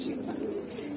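Jhuma pankhi red-footed homer and mili pigeons give a soft, low coo up close, one brief throaty call over a quiet background.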